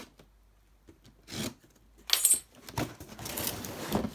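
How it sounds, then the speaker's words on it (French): Moped parts for a Peugeot 103 Vogue being unpacked from a well-wrapped package: close, intermittent rustling, rubbing and clinking of wrapping and small parts, quiet at first and busier later, with no talking. "on va ouvrir tout ça ensemble"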